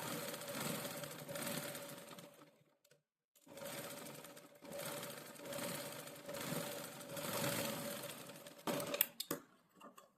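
A sewing machine stitches fabric in long continuous bursts, whirring close up, with a brief silent pause between runs and a few short stop-start stitches toward the end.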